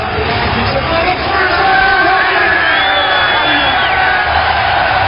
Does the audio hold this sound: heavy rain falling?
no